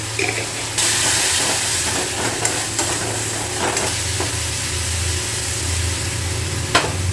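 Spice paste for an egg poach curry, with crushed kasuri methi added, fries in a pan with a steady, loud sizzle and hiss, broken by occasional scrapes and clicks of a stirring spoon up close.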